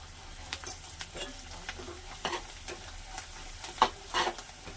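Fresh coriander fries in oil in a pan for a gongura pickle, with a soft sizzle under intermittent stirring scrapes and a few light metallic clinks, fairly quiet throughout.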